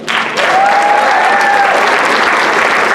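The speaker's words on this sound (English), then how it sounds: "y'all can definitely clap for him" A crowd at a high school marching band exhibition breaks into loud, sustained applause for a band member, a full, even roar of clapping from many hands with a faint whistle rising above it.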